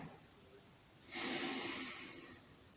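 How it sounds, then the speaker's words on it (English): A deep inhale during a yoga exercise while standing and lifting the arms, a single long, steady breath drawn in close to the microphone, lasting about a second and a half before fading. "We're breathing in and lifting the arms up."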